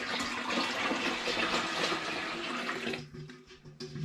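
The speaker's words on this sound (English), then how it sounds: "now it's time for the big dramatic pour of all my syrupy stuff" Syrupy liquid pours in a heavy, continuous rush into a home brew fermenter for a gooseberry bitter, loud and close for about three seconds before tailing off into faint drips.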